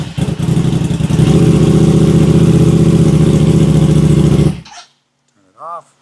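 An Aprilia RS660 sport motorcycle engine runs loud and close with a steady, throbbing idle for about four seconds, then cuts out abruptly, followed by a short voice.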